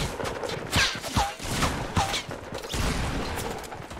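Shotgun fire in a video game, a few sharp, loud blasts spaced irregularly over a noisy background of game sound.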